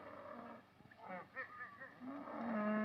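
Cattle mooing and lowing as a herd is driven along in a 1936 western, several calls rising and falling with a louder, drawn-out bellow building at the end.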